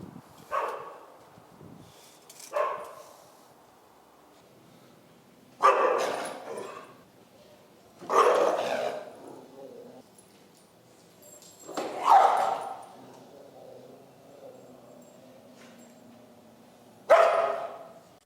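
Dogs at a board-and-train facility bark in scattered bursts, about six separate outbursts with yips and whimpers, fairly close, separated by quiet gaps in an echoing indoor space.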